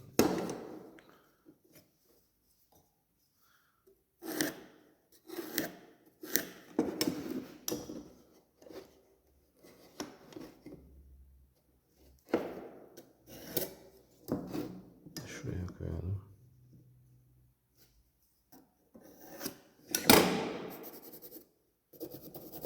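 A Stanley Fatmax 250 mm double-sided adjustable hand saw cuts a notch in a thick piece of wood held in a vice. Faint, irregular rasping strokes come in short bursts, with occasional quiet vocal sounds between them.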